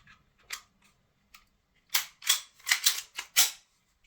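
Slide of an ASG CZ 75 4.5mm CO2 pistol being worked back onto the frame, a few light clicks followed by a quick run of sharp, close metallic clacks.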